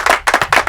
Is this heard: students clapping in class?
yes